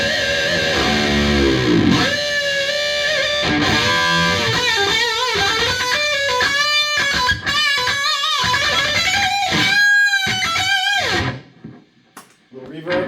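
Electric guitar played through a TS9 Tube Screamer and an EVH 5150 Overdrive pedal into a 5150 Iconic 40-watt combo amp with gain at noon, heard as distorted chords and riffs that ring loud and then cut to near silence at the end.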